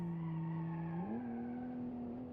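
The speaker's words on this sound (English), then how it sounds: "Locking up those brakes real quick" A sustained tonal squeal of tires skidding under locked brakes on a pony car in BeamNG, holding steady before its pitch jumps slightly upward partway through, with no voices.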